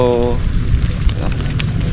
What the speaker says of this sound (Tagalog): Umuulan na. Basa na nga tong cellphone.